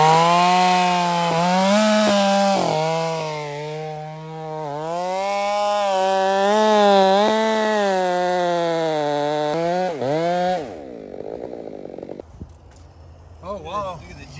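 A chainsaw cuts through dense ironwood on a back cut, its engine droning loud and close with a shifting pitch for about ten seconds before dropping off, followed by quieter rustling.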